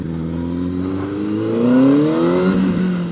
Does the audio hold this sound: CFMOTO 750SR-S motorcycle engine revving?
yes